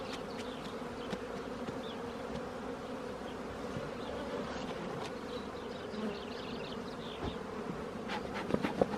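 Honey bees at an opened hive during a spring apiary inspection after smoke is applied, a dense, steady close-up buzz with individual bees droning past.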